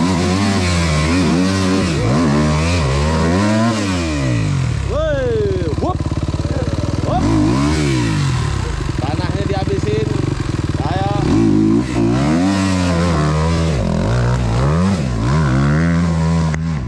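Trail motorcycles stuck in a forest rev loudly and continuously, engines rising and falling in repeated surges up close, with voices faintly mixed into the din.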